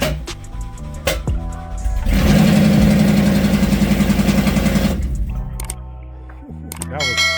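A Mustang drift car engine roars loudly and raw without its exhaust fitted for a few seconds, then settles back while mechanical clicks and clatter sound nearby.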